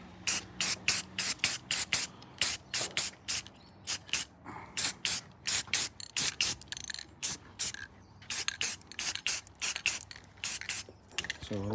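Gloss black spray paint applied to parts of a cammed Holden VF SSV Redline: many short, loud hissing bursts from a spray can come in quick rhythmic succession, separated by brief pauses and faint rattling.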